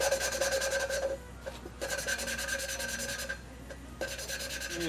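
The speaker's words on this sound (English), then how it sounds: "So you can hear the sound of it grinding." Grinding on an engine part from an old Thwaites dumper, a harsh rasping abrasive noise in repeated strokes with short pauses, close and fairly loud.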